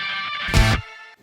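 A short burst of heavily distorted, fuzzy octave-down guitar, a thick saturated chord that swells loudly and cuts off after about a second.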